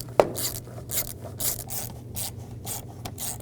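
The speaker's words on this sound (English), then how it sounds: "Tighten down the worm clamps." Worm clamps on an air hose to the valve cover of a 2010-16 Cadillac SRX are tightened by hand, giving repeated short rasping ratchet clicks in a steady rhythm, close and moderately loud.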